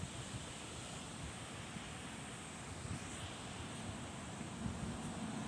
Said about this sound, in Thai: ลมแรงมากเลยนะครับลมแรงมาก